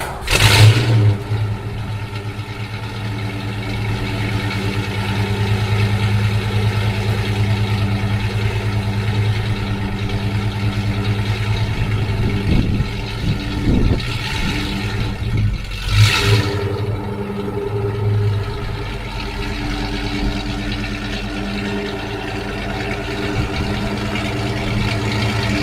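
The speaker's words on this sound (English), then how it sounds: "This car hasn't really run in probably 6 to 9 months, so I'm just going to let it go ahead and sit there and idle while I wash it up" A car that has not run for six to nine months idles steadily outdoors for nearly half a minute, a low even engine drone with a few small revs and brief clunks midway, close and alone without talk.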